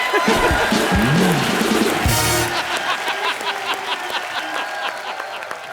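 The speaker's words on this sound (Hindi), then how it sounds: "तालियां बजाओ बच्चा के लिए" A TV comedy show studio audience breaks into loud applause and cheering, steady clapping that carries on throughout with a few voices calling out.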